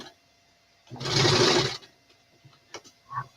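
Sewing machine stitching fabric for a winter skirt, one steady mechanical whir of under a second at moderate volume, surrounded by quiet room noise and small clicks.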